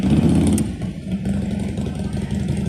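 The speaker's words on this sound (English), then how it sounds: "The dang on loud ass motorcycle just made me lose my train of thought." A loud motorcycle engine outside keeps up a deep, rumbling, slightly pulsing drone, steady and close, with no voices over it.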